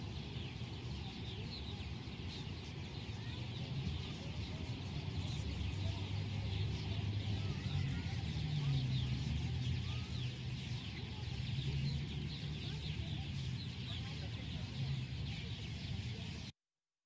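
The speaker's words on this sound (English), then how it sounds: "these are all purple martins" A huge flock of purple martins gathers at dusk in Austin, Texas, making a dense, continuous wash of twittering chatter that holds steady and fairly loud throughout.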